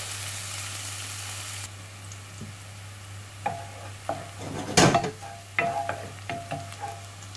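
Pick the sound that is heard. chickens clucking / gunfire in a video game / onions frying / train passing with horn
onions frying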